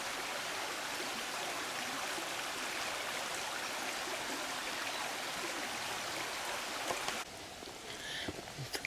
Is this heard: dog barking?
no